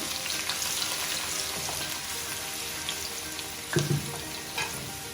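Onion frying in a non-stick pan as the base of a sauce gives a steady, close sizzle throughout, with a brief louder burst of crackling near the end.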